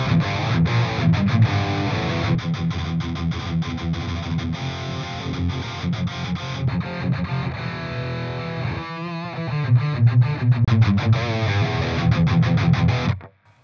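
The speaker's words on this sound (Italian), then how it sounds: "Questo è il mio sound base high gain." An electric guitar plays a high-gain, heavily distorted tone through effects pedals, with chugging riffs and sustained chords, loud and close, before cutting off abruptly at the end.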